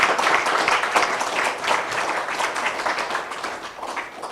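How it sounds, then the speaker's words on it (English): Sustained applause from a conference audience at the close of the Internet Governance Forum 2022, a dense, steady wash of many hands clapping that fades slightly toward the end. "give yourselves a huge round of applause for what we have achieved today"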